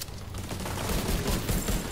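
Dense, sustained turret gunfire in The Division 2, a steady barrage of rapid shots holding loud and continuous throughout, with no voices.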